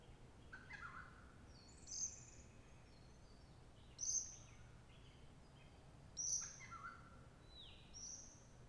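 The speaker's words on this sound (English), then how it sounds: "You can also hear the birds going to their roosting spots." Birds call at sunset while heading to roost among trees, bright chirping phrases coming roughly every two seconds, faint and somewhat distant over a low steady background hum.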